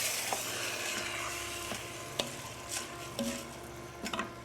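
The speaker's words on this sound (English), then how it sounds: "I will give it a quick stir" Soaked rice grains coated in oil get a quick stir in a pot, a soft steady sizzle with a few light scraping knocks of the spoon, close and with no speech.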